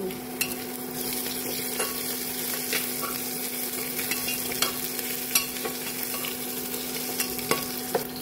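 Onion frying in a pan with ginger and garlic added for masale bhat, a steady close sizzle with intermittent scraping clicks of a spoon stirring throughout; no talking.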